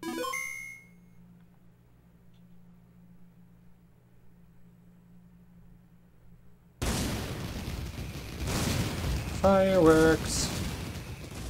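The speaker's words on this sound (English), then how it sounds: "Fireworks!" Fireworks sound effects from the Pokémon Black 2 end credits erupt as a dense, crackling wash after a long near-silent stretch with a faint hum, with a brief run of bright chiming tones near the end.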